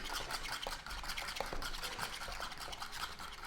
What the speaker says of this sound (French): J'entends le cri de la casserole.